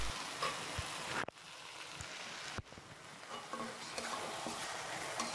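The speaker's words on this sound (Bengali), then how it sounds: "এভাবেই করে আমি মাংসগুলো ভেজে নেব।" Chicken pieces frying on high heat in a pan, a dense continuous sizzle with stirring scrapes and two sharp clacks from a utensil, close and fairly quiet, no voices.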